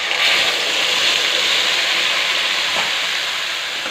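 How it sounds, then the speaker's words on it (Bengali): Spice paste for kofta frying in oil in a pan, giving a loud, continuous hissing sizzle that stays even from start to finish, with no talking. "যতক্ষণ না মশলার তেল না ছাড়ছে ততক্ষণ মশলাটাকে ভাজতে থাকবো।"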